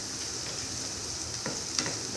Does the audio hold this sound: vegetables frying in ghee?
yes